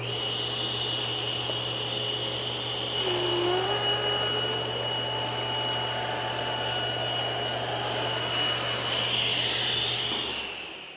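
A saw rips a thin wooden strip guided by featherboards: a steady motor hum rises into a louder rushing cut midway, holds for several seconds, then eases as the blade frees the wood.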